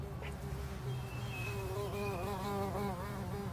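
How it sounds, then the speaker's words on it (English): A bee buzzes steadily and close throughout, its wavering drone rising and falling in pitch as it circles, with no voices over it. "Do you hear that buzzing sound? What is it? Watch out! It's a bee!"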